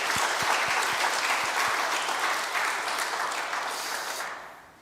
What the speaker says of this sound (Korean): 세 자매를 위해서 큰 박수로 축복하겠습니다